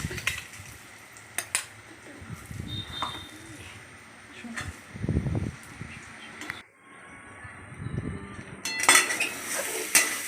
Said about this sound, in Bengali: এবার ভালো করে নাড়াচাড়া করে এটা মশলাটাকে কষিয়ে নেব।